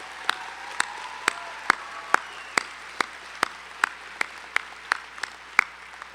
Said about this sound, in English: Please join me in a warm round of applause in acknowledgement of their influence and leadership.